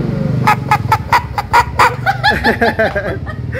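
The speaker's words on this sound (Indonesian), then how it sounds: "Ininya ditekan, terus kita kayak kukuruyuk gitu katanya." A squeezable toy chicken squawks out a rooster-style crow, a series of loud rhythmic squeaky honks that speed into a warbling cackle, close and alone.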